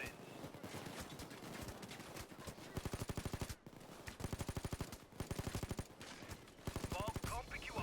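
Repeated bursts of rapid machine-gun fire from active gun emplacements in a video game, loud and close, broken by short pauses, with a busy mix of other game sounds underneath.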